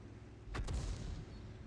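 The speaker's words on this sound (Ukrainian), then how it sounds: "Хтось фугасом вже просто так стріляє." A high-explosive shell cannon shot in the tank game World of Tanks: a single sharp, booming report over a steady rumbling battle background, with no talk.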